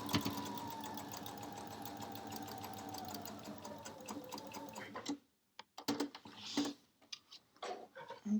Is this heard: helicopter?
no